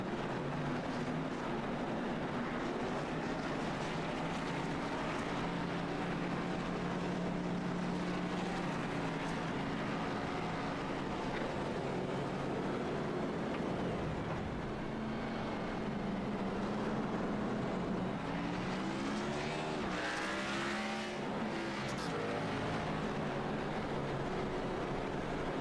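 Race cars in a racing video game lap the Martinsville short track, a dense continuous engine drone with pitch sweeps as cars brake and accelerate through the corners.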